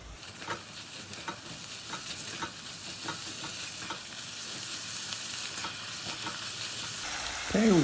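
Mushrooms fry and sizzle with beef tongue in a Staub pot, a steady close sizzle with soft stirring scrapes throughout and a brighter clatter near the end.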